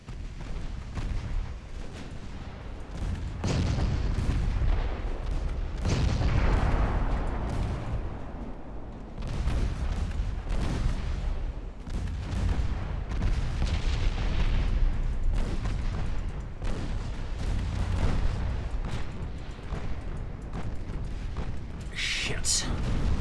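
Naval guns roar in a battleship battle in Ultimate Admiral Dreadnoughts, repeated heavy booms and rumbling blasts rolling one after another while someone talks over the fighting.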